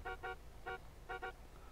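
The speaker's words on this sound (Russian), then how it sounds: "Еще сигналит, главное." Car horn honking in a Russian roleplay driving game after a pedestrian is run over, five short harmonic beeps in two quick pairs and a single, fairly faint over low engine rumble.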